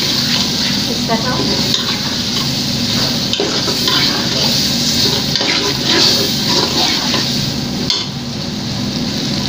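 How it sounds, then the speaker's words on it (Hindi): Soaked chana dal is stirred into hot, sizzling masala in a pan, making a steady loud fry hiss with scraping and stirring strokes throughout, and a voice faintly talking underneath. "इसको हमने भूनना नहीं है, बस हम इसे अच्छे से मसाले के अंदर मिक्स कर लेंगे"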